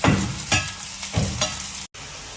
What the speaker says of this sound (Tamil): வெங்காயம்லாம் நல்லா வதக்கலாம்